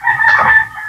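A native chicken crows and clucks close by in one short, loud burst with no talking.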